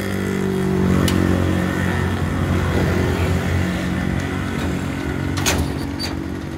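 A motor runs with a steady mid-pitched drone that rises slightly and then holds, staying loud and close for the whole stretch with a few brief clicks near the end.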